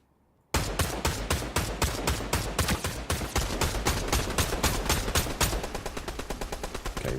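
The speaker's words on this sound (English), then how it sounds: "we're both shooting the same guy" Gunfire in Fortnite, a sudden rapid volley of shots that fires continuously and loudly for several seconds after a brief quiet start.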